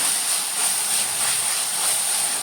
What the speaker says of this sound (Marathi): आता मी इथून टोमॅटो घालून घ्या आणि तो भी बरो भाजून घ्या